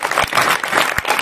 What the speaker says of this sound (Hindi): तालियां हो जाए, कितनी अच्छी बात है ये।